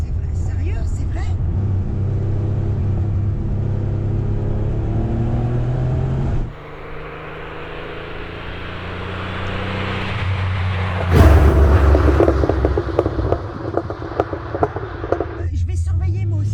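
A RUF-tuned Porsche 930 Turbo with over 400 horsepower drives and revs, its engine droning and surging with rising tones and a louder burst partway through, while people talk over it inside the car.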